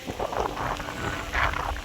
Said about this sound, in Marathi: आता प्रॉपर पावसाला सुरुवात झाली